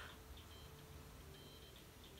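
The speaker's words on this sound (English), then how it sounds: "my brother's alarm is going on in the background" Faint electronic alarm beeps repeat at a steady pace in the distance, over a low background hum.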